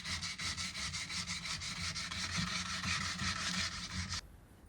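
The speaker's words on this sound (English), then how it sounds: "I use my gouge and some sanding papers to get the correct shape" Sandpaper rubs back and forth over a hollow-profile wood trim on a vintage painted writing desk, a steady rhythmic scratching of even strokes that runs loud and close for about four seconds, then stops abruptly.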